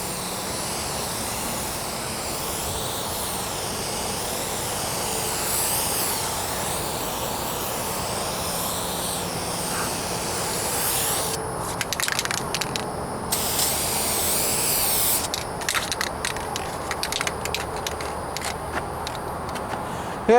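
A rattle can spray-paints the trunk and rear bumper of a 1998 Toyota Corolla, giving a steady close hiss for most of the stretch that breaks into short stop-start bursts near the end.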